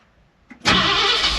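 A 1966 Ford F100 pickup with an exhaust leak cranks briefly and catches, its engine bursting into a loud, close, rough roar that holds steady after the start.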